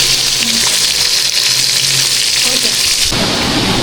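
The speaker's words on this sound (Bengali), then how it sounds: "মাছ রান্না দিচ্ছি মাছটা এখন রান্না করবো" Fish frying in a pan gives a loud, dense, continuous sizzle. The crackle shifts and thins slightly near the end, with no voices.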